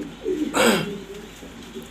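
Pigeons in a loft give a short low coo, with a brief louder rustle or flap in the middle, heard close and alone.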